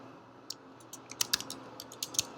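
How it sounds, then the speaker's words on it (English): Keys on a computer keyboard click as an address is typed, a quiet, close run of irregular taps that speeds into a quick flurry partway through. "you're going to type in the full address"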